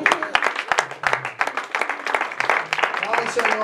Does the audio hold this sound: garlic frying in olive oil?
no